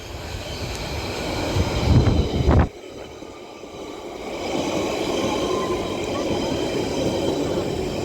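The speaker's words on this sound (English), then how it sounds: "Now arriving in is going to be another London Underground Central Line 1992 stock heading off to Epping from West Ruislip, arriving into South Ruislip." A London Underground Central Line 1992 stock train arrives into South Ruislip station, its loud rumbling approach building to a sharp peak, then settling into a steady running hum as it rolls in along the platform.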